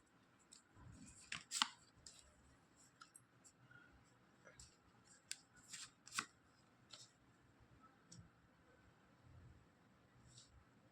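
Tarot cards being shuffled, handled and laid down on a surface, giving soft papery slides, flicks and taps in irregular bursts. The sounds are faint and close, with quiet low background noise.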